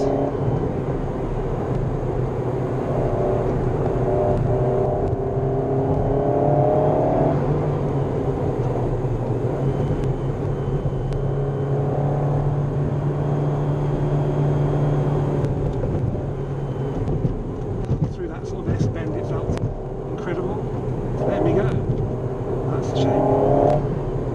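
An Alpine A110 GT sports car drives on a clear road through a tight corner, the engine droning steadily inside the cabin and rising as power comes on at the exit, with someone talking over it.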